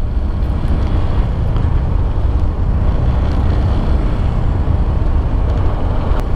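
A Yamaha Fazzio Hybrid scooter running on a test ride, its engine a steady low rumble under heavy wind buffeting on the microphone, continuous and close, with no speech.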